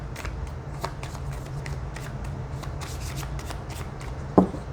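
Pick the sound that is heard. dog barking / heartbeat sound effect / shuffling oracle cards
shuffling oracle cards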